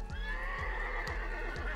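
A horse in the video game Mount & Blade: Warband gives a long, shrill whinny over steady, evenly spaced hoof clops, close and clear.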